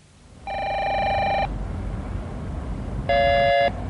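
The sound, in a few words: mobile phone ringing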